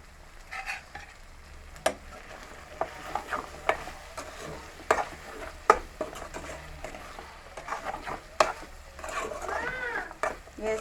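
Okra pieces frying in a pan with salt and turmeric being stirred, soft steady sizzling under repeated scraping and clinks of a spoon against the pan at an uneven rhythm.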